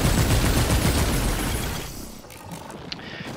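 Rapid body shots in Remnant 2 ring out as a dense, continuous volley of gunfire that fades after about two seconds into quieter game ambience with a lone click.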